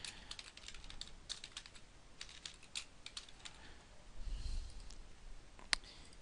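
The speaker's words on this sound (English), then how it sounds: "So I'm just going to type it in." Fast, light keystrokes on a computer keyboard, close and quiet, coming in short irregular bursts with one sharper click near the end.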